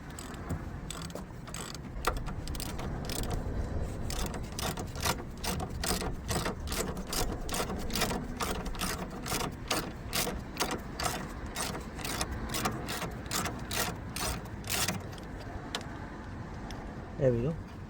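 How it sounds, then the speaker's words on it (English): A ratchet loosens the 22mm lower ball joint bolt on a VW Sharan during a drive shaft replacement, giving a long run of rapid, evenly spaced metallic clicks that stop near the end. "we're going to remove the lower ball joint bolt, which is a 22mm bolt"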